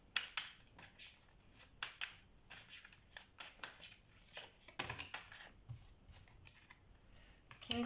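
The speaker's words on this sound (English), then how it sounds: "they want me to shuffle the deck." Tarot deck shuffled by hand in a quiet room, a run of crisp riffling flutters and soft slaps coming in quick bursts with short pauses between them, up close and alone.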